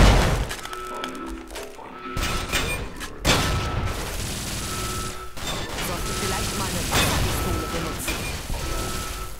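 Booming, rapid gunfire from the video game Fallout: New Vegas rolls on continuously, dense and loud, with sharp blasts punctuating a busy mechanical din.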